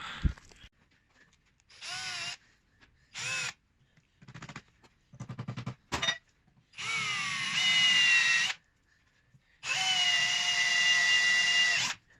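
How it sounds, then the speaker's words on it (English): A power drill whines in repeated bursts, short stuttering pulses at first, then longer sustained runs as it bores through metal fuel line clamps on a VW Polo 1.9 TDI, fairly close. "So first job is drilling these two clamps out."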